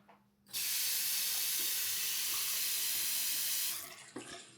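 A bathroom faucet turned on full, a loud steady rush of running water lasting several seconds before shutting off, close and alone with no voices.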